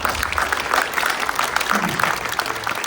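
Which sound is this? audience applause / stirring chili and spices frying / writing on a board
audience applause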